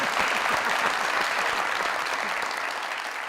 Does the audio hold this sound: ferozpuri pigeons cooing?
no